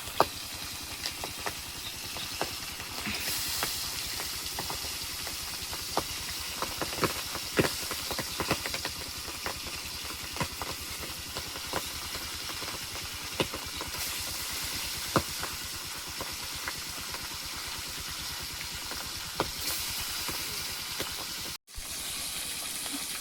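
Pabda fish frying in hot oil, a steady broadband hiss and sizzle running evenly throughout with small crackles and pops, close and continuous with no talk.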